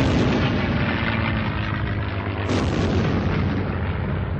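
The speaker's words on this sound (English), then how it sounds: "dropping the bomb short of the target so that it bounces into position to explode." A bomb dropped from an A-36 Mustang, the Allison-engined dive-bomber version of the P-51, explodes after skip bombing. The result is a loud, sustained rumbling blast with a fresh surge about halfway through, and no voices.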